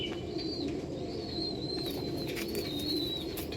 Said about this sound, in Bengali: খুব সুন্দর পায়রা হবে